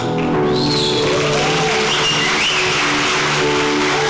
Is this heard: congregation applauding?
yes